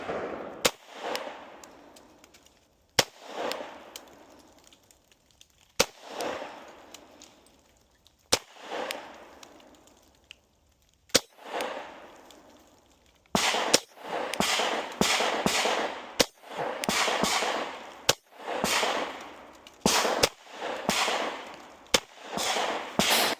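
Repeated sharp pistol shots from a Glock 43x firing Federal HST +P and 115 grain rounds at 12 yards: five widely spaced single shots, then a faster string of about eight loud cracks, each followed by a ringing decay.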